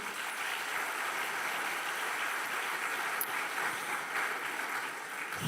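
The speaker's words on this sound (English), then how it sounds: "I would like to ask from you, audience, a huge welcome clap to Dr. Gerda Frank" Audience at a student founding contest final gives a welcoming round of applause, a steady moderate clapping that continues evenly throughout.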